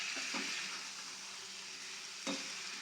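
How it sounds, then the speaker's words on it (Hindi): Egg curry masala of onions and spices gently stirred in a pan, a soft continuous sizzle with a few faint scrapes of the spoon, low and close, no voices. "फिर इसको हल्के हाथों से चलाएंगे।"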